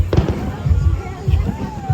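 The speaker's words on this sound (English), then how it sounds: "And then you have Epcot's fireworks over there." Epcot fireworks bursting over a Disney resort at night, a string of deep booming thuds repeating in irregular clusters at a distance, with faint crowd chatter in the background.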